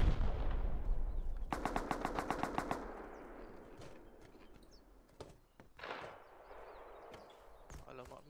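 Automatic gunfire in the video game Rust rattles off in a rapid burst of about ten shots, loud and near, followed by scattered single shots and thuds over a noisy battlefield backdrop.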